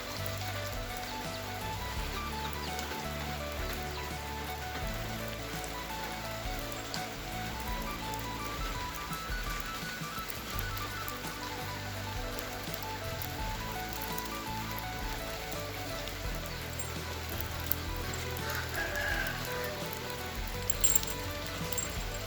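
Steady, dense patter of rain falling across a surface during rice planting, continuous and moderately loud throughout with no voices, a few sharper drops standing out near the end.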